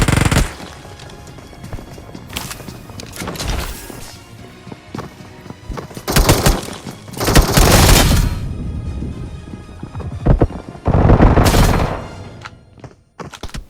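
Gunfire in a BGMI battle comes in several sharp bursts of rapid shots, loud and close, separated by quieter stretches of footsteps and movement.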